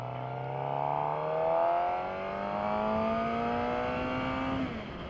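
A 2018 Suzuki GSX-R750 motorcycle engine accelerates hard, its whine climbing in pitch through a gear, dropping at the shift, then rising again before easing off. It sounds fairly close, with no talk.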